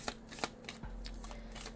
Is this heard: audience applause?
no